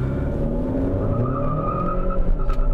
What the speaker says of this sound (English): A little bit of tire squeal,